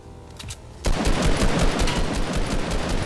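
Rapid bursts of video game gunfire break out after a brief quiet moment, continuing densely as a sustained barrage.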